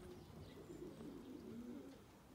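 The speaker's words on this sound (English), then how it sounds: "the joys of messing about with pigeons" Pigeons from a flock of about forty birds coo softly in low, rolling murmurs, quiet and somewhat distant against faint background noise, with no talking.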